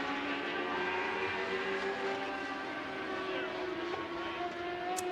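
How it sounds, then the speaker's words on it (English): Several Mod Lite race cars with 600cc and 1200cc engines drone steadily at a speedway at night, a continuous high buzzing pack of engines heard from a distance with no break. "I believe these are 600cc engines."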